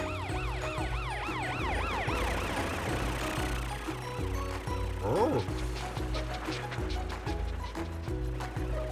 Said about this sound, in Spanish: ¿puedes encender tu baliza y sirenas?